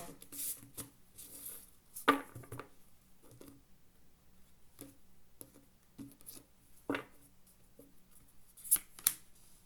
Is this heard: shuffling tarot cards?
yes